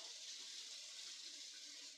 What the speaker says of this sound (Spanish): lo primero va a ser llenar la olla de agua.